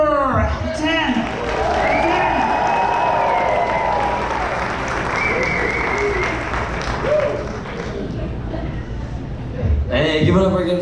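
Audience at a comedy show at a theatre applauding loudly and steadily for about ten seconds, a dense wash of clapping with some cheering, while a voice speaks over it near the start and end.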